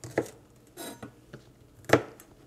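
Green onions chopped with a knife on a board, several separate crisp thuds with gaps between them, close and clear with no talk.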